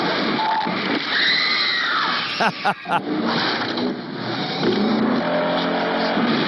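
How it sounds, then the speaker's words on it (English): Car chase from an old New York police film, with roaring engines and rushing, squealing vehicle noise filling the scene continuously, briefly broken by sharp impacts midway. "Crazy car chasing."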